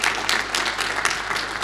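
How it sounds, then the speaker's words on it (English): Conference audience clapping at the end of a Django Rest Framework talk, steady dense applause throughout, fairly loud with no voices over it. "I hope you can hear all that clapping"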